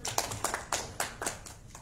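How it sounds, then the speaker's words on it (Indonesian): Applause from the audience at an Indonesian political press event, heard as a short burst of scattered claps in an uneven rhythm, moderately close and fairly soft, with no voices over it. "Terima kasih tepuk tangannya untuk Bang Irwan."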